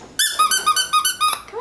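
A squeaky rubber monkey dog toy squeezed repeatedly, giving a rapid series of about eight bright, close squeaks in an uneven rhythm, loud and alone with no talking.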